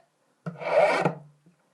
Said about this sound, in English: Just want to use nice long smooth filing motion.